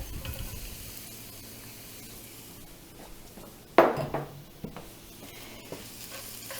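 Swiss chard stems added to a pan of browned onions and garlic, a steady soft sizzle of frying broken by a sharp clatter of a utensil against the pan, then quieter stirring scrapes.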